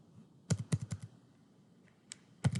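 Quick bursts of keystrokes on a computer keyboard as ABAP code is typed, a rapid cluster of clicks, a pause, then a few more presses, close and moderately quiet.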